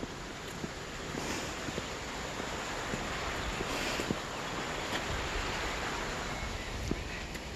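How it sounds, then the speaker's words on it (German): A small forest brook flows beside a hiking path near Waldfischbach in Germany, giving a steady, even rushing of water with faint wind in the background and no talking. "So, kleines Bach."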